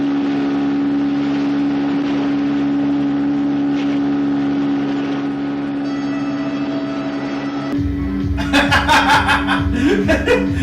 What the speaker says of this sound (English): they're in their fast motorboat